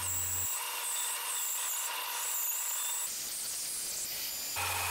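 A bandsaw cuts through a cedar log for a jewelry box, giving a steady, fairly quiet whirring rasp of blade on wood with the motor hum running throughout.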